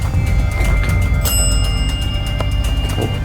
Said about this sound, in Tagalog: can you ring the bell once?